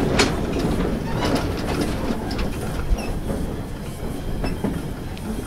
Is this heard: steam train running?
yes